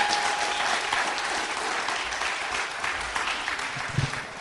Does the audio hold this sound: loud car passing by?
no